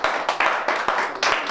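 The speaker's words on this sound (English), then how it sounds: "Please give him a round of applause." A small group claps for a man at a homeless bill of rights rally in Newark, New Jersey, with sharp, distinct hand claps falling in a loose, uneven rhythm, close and fairly loud, with no talking over them.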